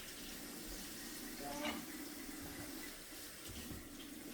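Running water from a kitchen tap as an item is rinsed under the stream after making truffles, a steady broadband splash with a brief brighter spatter partway through, close by, with no talking.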